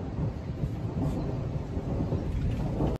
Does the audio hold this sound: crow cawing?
no